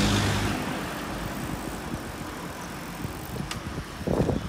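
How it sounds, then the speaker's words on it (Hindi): A vehicle rolls up from behind on a narrow single-lane road: a steady broadband road and engine rumble that swells briefly near the end, with no voices. "गाड़ी और आ रही है पीछे से।"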